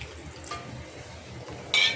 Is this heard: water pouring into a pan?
yes